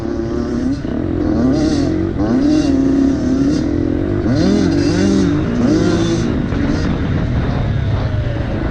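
A KTM 250 EXC-F dirt bike engine at a sprint enduro, loud and close, revving up and down through wavering pitch changes with a continuous buzzing drone, punctuated by rhythmic bursts, with faint voices underneath.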